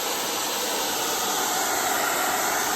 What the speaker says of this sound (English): Hairdryer, the Infinity Pro Conair by Conair, maximum heat.